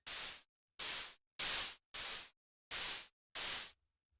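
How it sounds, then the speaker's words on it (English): Six short bursts of harsh white-noise hits in an even rhythm, each a crisp hissing snare-like crack with no low body, separated by silence. "Now I'm going to make a snare with just noise."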